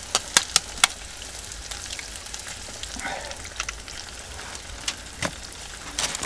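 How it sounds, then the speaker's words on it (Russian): Eggs frying in a pan in a rustic cabin kitchen give a steady soft sizzle, with scattered sharp pops and crackles, and no one talks over it. "яичницу жарить, могу научить"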